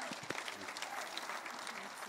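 A church congregation at a Sunday service claps together, a short, even patter of many hands heard quietly from some distance.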